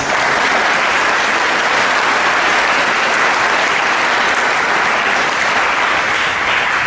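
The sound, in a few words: graduation audience applause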